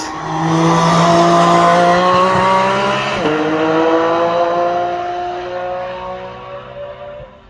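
A Porsche GT4 RS prototype sports car roars past close by at high revs near the Nürburgring, its engine note dropping sharply as it passes, then fading away into the distance.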